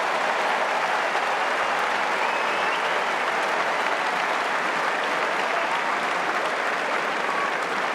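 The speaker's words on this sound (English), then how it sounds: "Crowd are on their feet." A Wimbledon final crowd of Sinner versus Zverev on its feet, sustained loud applause filling the tennis stadium, a steady dense roar of many hands clapping without a break.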